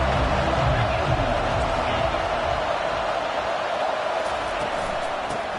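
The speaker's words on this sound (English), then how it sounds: "Decibels rising as the crowd gets behind this defense on third down." A football stadium crowd roars steadily during a third-down defensive stand in a Georgia game, a dense, sustained wall of cheering and noise that stays loud throughout.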